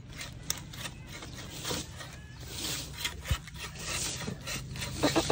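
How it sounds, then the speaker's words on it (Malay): A hand saw cutting through wood in a village setting, giving a steady rasping, scraping rhythm at moderate distance with a few sharper knocks toward the end. "Papa nak gergaji."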